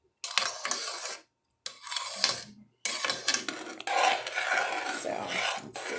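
Sugar being stirred into boiling red plum jam, with scraping and rasping strokes of a spoon against the pot coming in bursts, separated by brief pauses, close and fairly loud.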